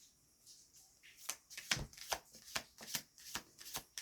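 Close, quiet riffling of a tarot deck being shuffled, a series of soft papery bursts in an uneven rhythm, with no voices.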